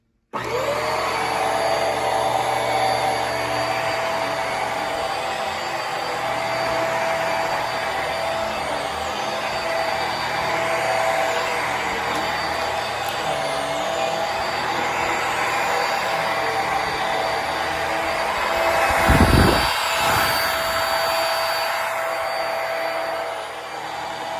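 A Hoover MaxLife Pro Pet Swivel upright vacuum cleaner roars steadily at close range with a high motor whine, briefly surging near the end before running on.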